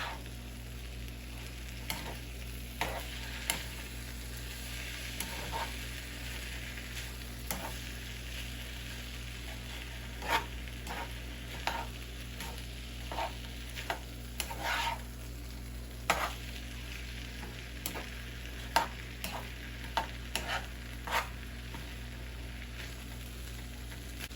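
Fried rice sizzling steadily in a pan while being stirred, with a constant low fry hiss punctuated by frequent sharp scraping and clinking strokes of the utensil, close and alone with no talk.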